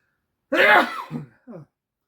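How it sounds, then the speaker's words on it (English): A single close, sharp sneeze with a voiced burst, followed by a couple of short breathy after-sounds, then silence. "I'm just about to sneeze."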